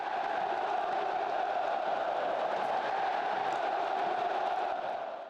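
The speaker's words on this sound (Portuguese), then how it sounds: "E a torcida já está soltando o grito." Flamengo supporters roar and chant together in the stands, a dense and sustained crowd shout at full volume that fills the whole stretch before easing slightly at the end.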